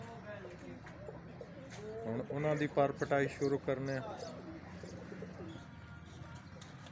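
Pigeons in a competition loft coo softly in the background while someone speaks close by over them.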